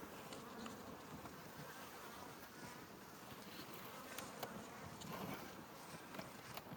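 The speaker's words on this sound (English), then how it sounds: "Now I've got a bee" Honeybees from a beginner beekeeper's hives buzz steadily and densely around the keeper, forming a continuous droning hum throughout, with no speech.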